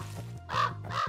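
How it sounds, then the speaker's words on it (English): Crow cawing in the horror game Pumpkin Panic, two harsh caws in quick succession over a low steady hum, loud and close. "Okay, the crow is still noisy"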